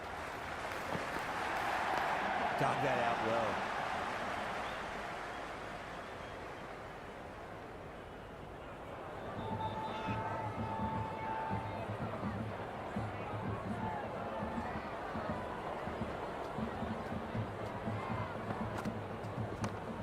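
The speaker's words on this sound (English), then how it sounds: "already the crowd making a hell of a racket" A stadium crowd at an India vs South Africa one-day cricket match in Cricket 26 keeps up a loud, steady roar and cheering throughout, with a commentator speaking over it.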